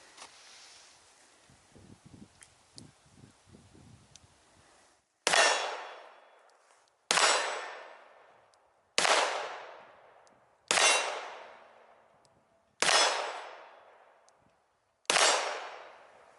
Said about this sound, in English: We'll just shoot the large target there in the middle.